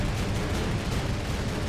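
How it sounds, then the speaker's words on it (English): Heavy 30mm cannon fire from German Focke-Wulf 190 fighters tearing into bombers in a wartime air battle, heard as a thick, continuous roaring rumble of blasts with no break and no voices. "Their 30mm cannons lay waste to the bombers."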